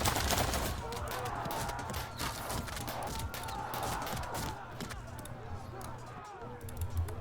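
Volleys of ranged fire and battle clatter from a medieval wargame, Field of Glory 2: Medieval, as troops shoot at knights from long range; dense, continuous crackling bursts at steady loudness with a low rumble underneath.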